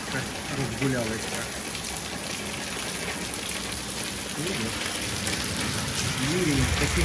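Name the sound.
heavy rain downpour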